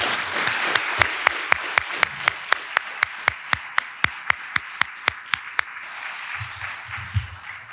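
At a College of Pharmacy commencement ceremony, the audience claps for graduating pharmacy students in a crisp, evenly spaced rhythm of about twenty sharp beats over a soft crowd wash. The beats stop partway through, leaving quieter murmur.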